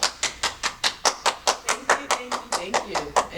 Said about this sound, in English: it would be an honor if more people would clap when I'm clapping